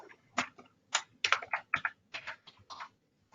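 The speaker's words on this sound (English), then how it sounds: "I'm going to type in an example for y'all" Keystrokes on a computer keyboard entering a search term into a library website's course reserve search, about a dozen quick clicks in an uneven run, close and clear with no talking.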